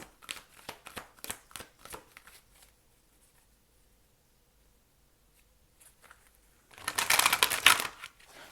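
Tarot cards being shuffled by hand, quick papery riffles and taps at first, a quiet pause, then a dense, louder burst of shuffling close up.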